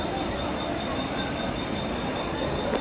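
Local commuter train running between Nalasopara and Thane, heard from inside as a continuous loud rumble and rattle with a faint high whine, steady throughout.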